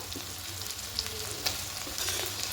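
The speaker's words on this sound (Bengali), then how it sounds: "টমেটো দিয়ে খুব ভালো করে একটুখানি ভেজে নেব" Chopped onions and tomatoes fry in a pan as part of a spicy loitta fish jhuri dish, giving a steady close sizzle with a few brief spatula scrapes and no voices.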